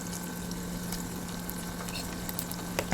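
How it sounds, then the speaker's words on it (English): Ginger garlic paste frying in a pan with chopped onions for a thali dish, a steady close sizzle with soft crackling and occasional pops, no talking over it. "Let's fry this well in the raw fry over here."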